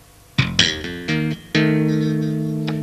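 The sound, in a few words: guitar tapping with hammer-ons and thumb slaps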